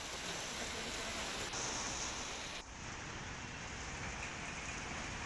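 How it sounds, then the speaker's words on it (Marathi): Heavy rain pours over Chembur and Ghatkopar in Mumbai as a steady, loud roar of broadband hiss, with two abrupt shifts in tone partway through. "मुंबईतल्या चेंबूर, घाटकोपर, कुर्ला, पवई या भागामध्ये जोरदार पाऊस झाला."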